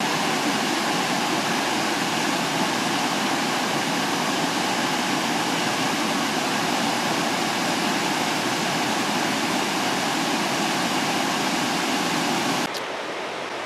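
A waterfall beside a campsite roars as a steady, loud, broadband rush of falling water that runs unbroken for the whole stretch, with no voices over it.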